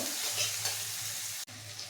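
Ground coriander, cumin, chili and turmeric going into a frying ginger-garlic, tomato and green chili masala for chicken kosa: a quiet steady sizzle with a low hum and a brief cut partway, no speech.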